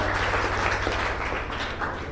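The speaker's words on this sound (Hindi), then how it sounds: "क्या ताली होना चाहिए कि नहीं होना चाहिए इस प्रोडक्ट के लिए?" An audience at a network marketing event applauds, a dense, steady wash of clapping at close-to-moderate distance that carries on throughout with no voices over it.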